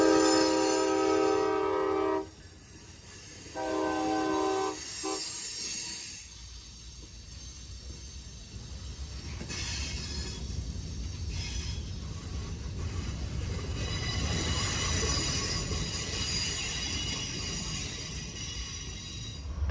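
A CSX freight train pulls a short cut of cars into a rail yard in Lakeland, Florida, with an old Chessie caboose on the rear; a steady, nearby rumble of rolling cars and locomotive with a horn-like tone early, no talk.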